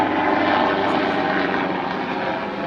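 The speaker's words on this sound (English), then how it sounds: "Helicopter." A helicopter flies overhead, its loud, steady rotor and engine roar filling the whole stretch without pause and with no talking.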